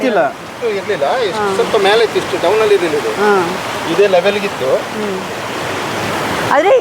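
Stream water rushes steadily beneath a bridge in flood-hit Kodagu, a constant broadband roar running under people talking close by.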